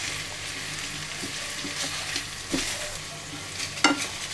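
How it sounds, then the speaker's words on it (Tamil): Veld grape (pirandai) sautéing in a pan, a soft steady sizzle broken by a few spoon scrapes and knocks against the pan, with no talking. "அதனால் இதை நல்லா வதக்கிக்கோங்க."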